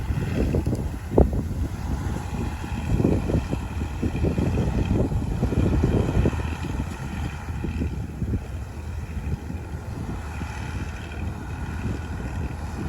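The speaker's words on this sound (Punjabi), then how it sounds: "ਥੋੜਾ ਜਿਹਾ ਹਵਾ ਜੀ ਵੀ ਬਹੁਤ ਜ਼ਿਆਦਾ ਆਈ ਹੋਈ ਹੈ" Strong wind gusting across a wheat field at harvest time, a steady broad rush with buffeting microphone rumble that swells and eases over thirteen seconds, with no voices.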